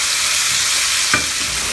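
Salsa sizzling loudly and continuously in a pan over a medium-high flame, a dense close hiss with a brief stir or scrape partway through.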